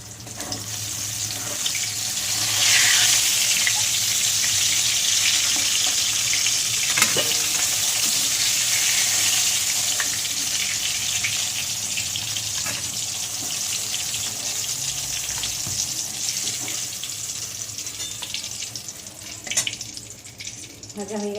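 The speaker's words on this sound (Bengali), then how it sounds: "এবার কাঁকরোল কটা ভেজে নেব।" Pieces of kakrol (spiny gourd) rubbed with salt and turmeric fry in hot oil, opening with a loud, sudden sizzle that settles into a continuous, close hiss.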